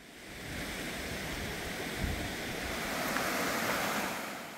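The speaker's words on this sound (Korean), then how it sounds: "입구부터 폭포와 계곡이 반겨주네요." Steady rushing water from a waterfall and mountain stream at a mountain village entrance in Korea fills the scene, a broad continuous roar close by, with no voices.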